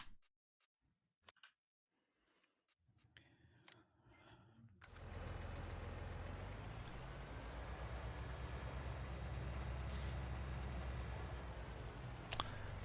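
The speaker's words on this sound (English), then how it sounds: "Oh, I can hear the dark garbage trucks faintly in the distance." Garbage trucks rumble in the distance of a Farming Simulator 19 farm scene, a steady low engine drone that swells in after a few quiet seconds with faint clicks, then holds loud and continuous with no talk.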